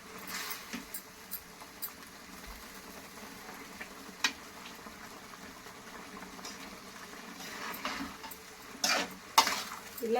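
Gobi manchurian simmering in sauce in a pan, stirred now and then: a soft steady bubbling bed with intermittent scraping and clinks of a spoon against the pan, louder knocks near the end, no talk.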